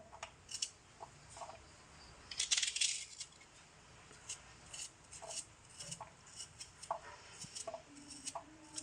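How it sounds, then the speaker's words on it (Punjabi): Onions chopped with a knife give sparse, irregular taps and clicks, faint and close, with a brief rattling flurry partway through and no talking. "ਆਪਾਂ ਪਿਆਜ਼ ਕੱਟ ਲੈਂਦੇ ਹਾਂ"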